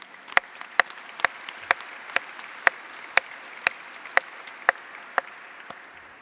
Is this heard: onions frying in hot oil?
no